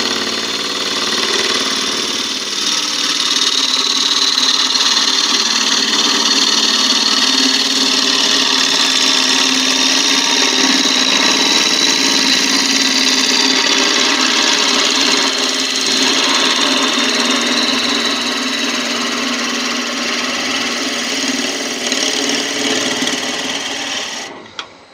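Wood lathe turning Balinese teak with a continental spindle gouge, a steady loud scraping rasp over the motor's whine, continuous and close without pause.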